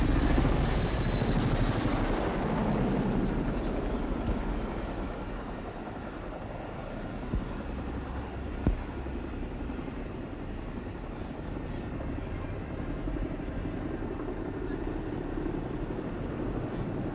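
A Chinook helicopter flies at an air display, its deep continuous rotor and engine roar steady and fairly loud throughout, strongest early on and easing slightly, with brief faint knocks midway.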